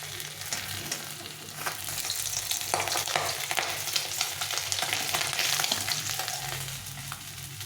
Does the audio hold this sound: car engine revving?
no